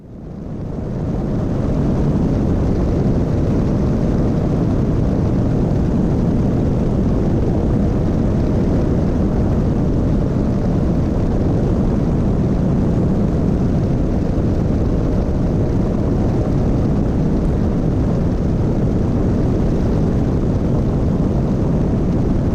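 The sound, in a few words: small airplane arriving at St. Ignatius airport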